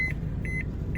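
A seatbelt sensor box in a 1991 Honda Accord sounds a repeating high electronic beep, two or three short tones about half a second apart over a steady low hum.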